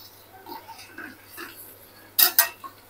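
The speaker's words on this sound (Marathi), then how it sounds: "2 मिनिट चांगली भाजून घ्यायची भेंडी आणि गॅसची फ्लेम मोठी करायची" Okra being roasted and stirred in a pan over a high gas flame: soft scrapes and clinks of a spoon against the pan, ending in two sharp, louder metallic knocks near the close.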